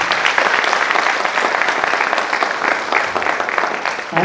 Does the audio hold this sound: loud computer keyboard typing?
no